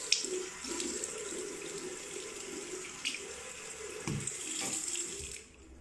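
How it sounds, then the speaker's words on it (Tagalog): Tap water runs steadily into a sink for several seconds while someone rinses off during a quick deluxe spa treatment, a continuous close splashing hiss that cuts off at the end. "So, just wash it with water after."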